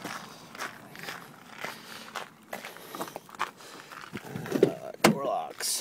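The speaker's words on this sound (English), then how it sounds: "Door locks." Door locks on a 2002 Ford F250 7.3L diesel 4x4 truck give quick mechanical clunks and clicks amid shuffling and handling noises, with a sharp, loud actuation near the end.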